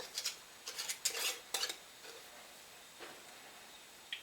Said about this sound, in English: We're also going to put some rings on.